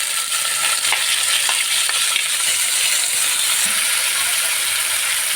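Garlic and tomato paste fry in hot oil as the base for a katla fish curry, a loud continuous sizzle with faint stirring scrapes, close to the pan and steady throughout.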